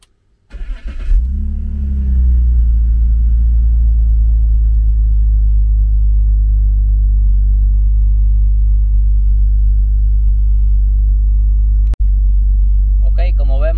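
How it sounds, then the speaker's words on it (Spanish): A BMW 3 Series E46 engine cranks briefly and catches, then settles into a steady, loud, low idle rumble that holds for over ten seconds, with a sharp click near the end. "Y procedemos a encender el auto."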